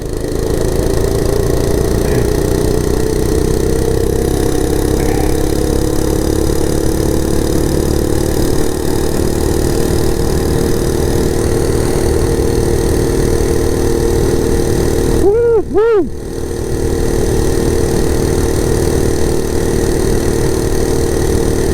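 Monster Moto 80cc minibike engine held at full throttle alongside a Yamaha XT250 on a cold day, a loud steady mid-pitched drone running throughout, with a brief voiced whoop partway through.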